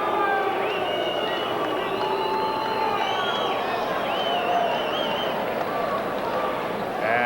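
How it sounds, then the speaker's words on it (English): Boxing arena crowd at an IBF bantamweight title bout reacting to an early stoppage, a dense sustained roar of voices with scattered shouts and whistles filling the space at steady loudness throughout. "you can hear the reaction from the crowd"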